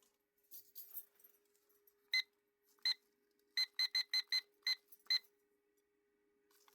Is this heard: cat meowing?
no